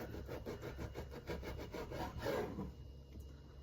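A knife saws through thin slices of cooked meat, cutting them into strips in a quick run of rhythmic back-and-forth strokes before it goes quiet near the end.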